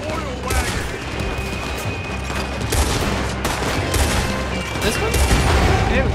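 Rapid bursts of gunfire fill a Red Dead Redemption 2 shootout, loud and dense with repeated sharp shots and booms over a busy game soundscape.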